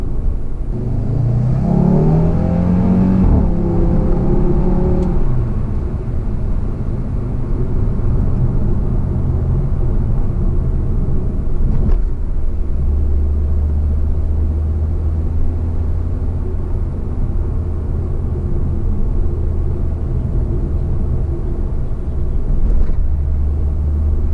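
An Audi RS3 sedan drives on hilly country roads, its engine revving up under acceleration and then settling into a steady, loud rumbling drone heard from inside the car.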